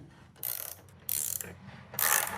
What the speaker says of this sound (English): I'll get the nuts started, and then I can tighten them down from there.